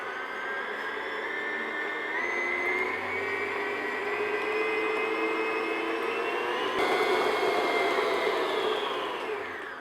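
An electric mixer beats almond cake batter for a cherry almond coffee cake on medium-high, giving a steady, loud whirring drone that holds throughout with no voices.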